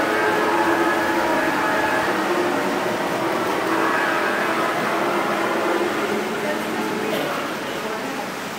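A Polar Express model train runs on a garden railway at a model train show, giving a steady, continuous mechanical rumble and hum with broad noise throughout, fading slightly toward the end, with faint voices in the background.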